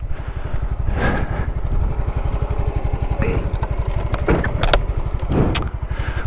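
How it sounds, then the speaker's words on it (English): Honda CRF 150 motorcycles idle and rumble close by in a steady, loud, even engine chug, with a few metallic clinks and brief voices in the background. "Ang lalaki pa ng mga motor nila. Na-observe ko baka Honda sila. CRF 150."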